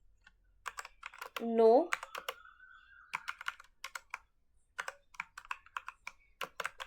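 Python code typed on a computer keyboard, a run of close, uneven key clicks and taps, with someone speaking briefly over the typing partway through.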